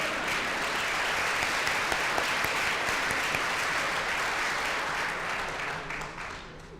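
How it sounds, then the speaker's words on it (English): Audience at a graduation ceremony claps loudly and continuously, a broad even wash of applause that tapers slightly at the end. "You can clap for that."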